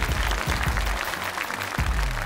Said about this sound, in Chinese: 好，来，掌声给舒畅。